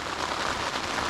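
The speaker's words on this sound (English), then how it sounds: "It's absolutely deafening with the rain coming down on the canvas." Heavy, intense rain pounds tent canvas in a dense, loud, continuous hiss without pause.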